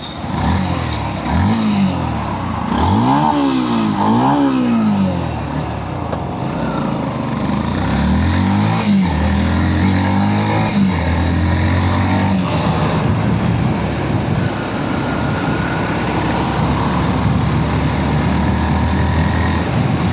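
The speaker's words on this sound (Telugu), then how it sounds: "ఒకసారి ఎగ్జాస్ట్ సౌండ్ వినండి" A Yamaha FZX motorcycle rides along with its exhaust note rising and falling through several revs and gear changes, then settling into a steady drone. The engine is loud and close, with no talk over it.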